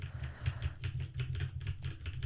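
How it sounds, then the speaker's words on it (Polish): Computer keys clatter in a quick, irregular run of soft taps, recorded close on a Behringer XM8500 dynamic microphone, with a steady low electrical hum underneath. "Teraz jeszcze dołączymy trochę klawiatury, dźwięki klawiatury."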